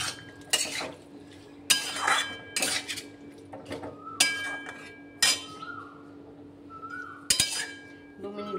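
A spoon scrapes and clinks repeatedly against a pan while prawns and banana flower are sautéed for a homemade curry, the metallic taps coming in irregular bursts over a quiet, faintly sizzling background.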